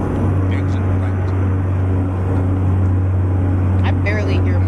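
A heavy truck engine in American Truck Simulator drones with a loud, constant low hum that fills the cab and never lets up, while a few faint higher chirps and tones pass over it.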